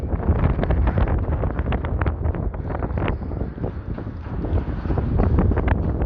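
Strong gusting wind buffets the microphone on Blackpool promenade on a grey day, a loud continuous roar that rises and falls without any voices.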